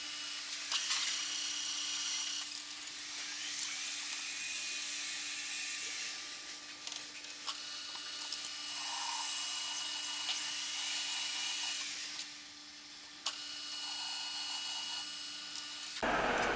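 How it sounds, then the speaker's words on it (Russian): A drill boring an oversized pilot hole in the inner part of a trimmer starter pulley blank gives a steady high whine with small shifts in pitch. It runs close and alone for about sixteen seconds, then cuts off. "внутренняя часть, сверлю отверстие с припуском, чтобы потом в сборе уже расточить чистовую."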